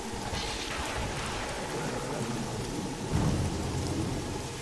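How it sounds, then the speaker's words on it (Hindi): Steady, heavy rain pours down in a dense continuous hiss, with a deep rumble of thunder swelling briefly toward the end. "पिछले 15 दिनों से लगातार मूसलाधार बारिश हो रही थी।"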